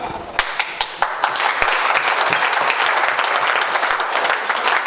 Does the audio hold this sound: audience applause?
yes